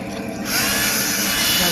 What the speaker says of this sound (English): My drill here, Milwaukee.